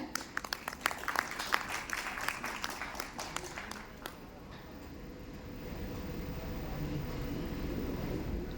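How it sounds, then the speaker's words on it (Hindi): Audience applause at a stage event, a burst of clapping for the first four seconds that then thins into a steady crowd murmur and room noise. "एक बार जोरदार तालियां हो जाए"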